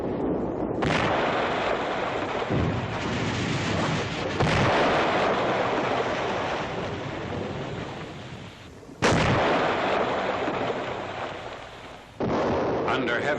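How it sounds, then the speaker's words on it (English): Heavy enemy artillery fire during a World War II Rhine river bridging operation, with loud booming blasts and sharp bursts over a continuous roar. "Under heavy enemy fire"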